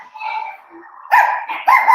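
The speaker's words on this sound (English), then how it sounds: "guests have arrived in my home, and now all the dogs are barking" Several dogs in a house bark at guests who have just arrived, with loud, close bursts after a brief whine and a lull.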